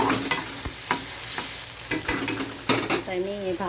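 Spice masala stirred and roasted in a pan, giving a steady sizzling fry with a few sharp scraping strokes of the spoon, close and fairly loud, no talking.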